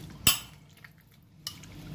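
A utensil scrapes and clinks against a pan while beef with grated ginger is stirred, two sharp metallic knocks about a second apart over a quiet background.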